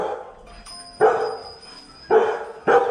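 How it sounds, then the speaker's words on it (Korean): A dog barks three times in short, loud bursts nearby, with quiet pauses between the barks. "나 깜짝 놀라니까 짖지 마."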